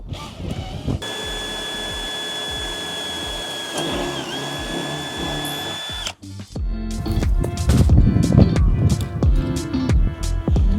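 A power drill boring a 3.5mm hole into the casing of a wind-out awning, a steady loud whine with a pitch dip midway, then rougher grinding and rattling bursts as the bit bites through.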